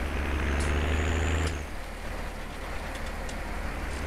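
Rain in Farming Simulator 19 with a Sonalika 60Rx tractor pulling a big trolley, a steady hiss of rainfall alongside a low engine drone that drops off partway, with faint brief clicks later and no talk.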